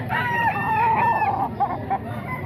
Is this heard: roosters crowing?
yes